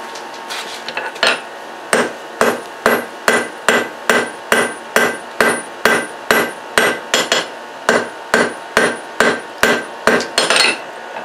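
Heavy hammer repeatedly striking a welded, layered steel billet on an anvil during forge welding, about twenty loud, evenly spaced ringing blows close by, each with a sharp metallic clang and short decay.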